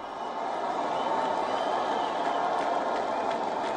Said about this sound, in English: They cheered as he moved through the crowds.